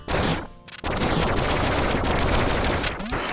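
Heavy gunfire from a super gun in Duck Game, a loud continuous roar of shots with a brief lull early on, then unbroken firing to the end.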